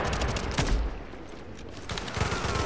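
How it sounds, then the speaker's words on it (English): Sustained automatic gunfire from an SMG in The Division's Dark Zone, a dense, loud stream of shots that briefly thins mid-clip and then resumes at full intensity. "I'm just gonna keep on shooting forever"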